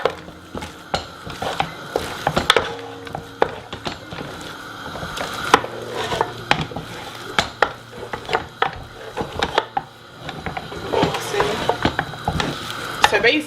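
Cassava dough worked by hand for kwanga, giving a steady run of close, irregular squelching thuds and slaps with some clicky knocks, continuing without pause and with no talk.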